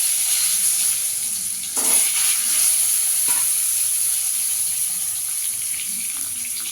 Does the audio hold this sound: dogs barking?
no